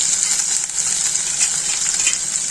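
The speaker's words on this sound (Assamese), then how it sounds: "পিয়াজখিনি ভজা হৈ আছে, নহৰু আদাখিনিও।" Onions, garlic, ginger and green chillies fry in a pan with a steady, loud sizzle that crackles continuously without pause.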